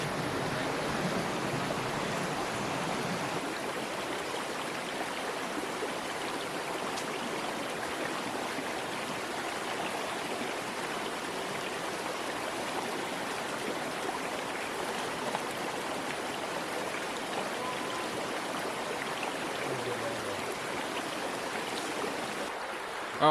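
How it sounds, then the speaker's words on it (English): A North Carolina mountain creek rushes steadily in a broad, even wash of flowing water that holds constant and fairly close for the whole stretch, with no voices. "This is a gorgeous creek, guys"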